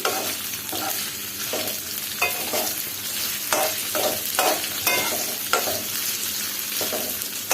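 Chicken frying in a pan for vegetable noodles: a steady, close sizzle with repeated scraping stir strokes every second or so, no voices.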